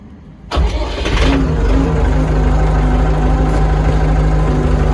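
A Forte RD504C mini tractor engine cranks and catches, then settles into a steady, rumbling idle close by with a low droning hum.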